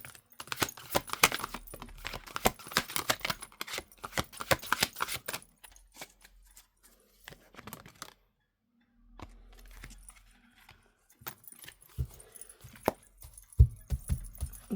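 Rapid riffling and flicking of playing cards being shuffled, close up, in dense bursts with quieter pauses and light handling between them.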